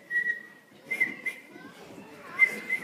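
A person whistles in short, clear tonal bursts during a school festival stage performance, with voices and stage bustle underneath.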